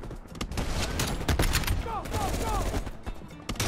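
Rapid sniper rifle shots in the video game Call of Duty Black Ops Cold War, loud, dense gunfire cracks running throughout with constant battle noise and no clear pause between bursts.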